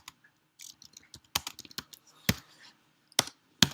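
A computer keyboard is typed on in short, irregular bursts of sharp keystrokes. The clicks are close but quiet, with pauses between.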